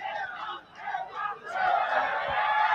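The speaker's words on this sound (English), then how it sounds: "You can see in thousands of crowds here." A large crowd of several thousand fills a cricket stadium at a Nepal versus UAE match, a loud continuous roar of cheering and chatter that swells toward the end.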